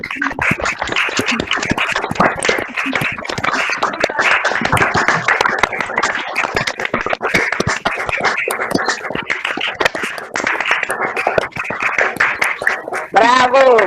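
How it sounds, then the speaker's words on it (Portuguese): An audience applauds the women of a feminist collective after a discussion at an academic event, dense sustained clapping filling the whole stretch, loud and close, with voices mixed in. "Palmas para as meninas."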